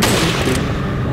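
A loud, booming gunshot in a shooter video game, a single heavy blast at the start that quickly decays into a rumbling tail.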